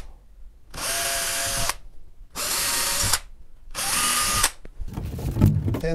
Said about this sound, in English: get a 3mm drill bit and I just drill through in each corner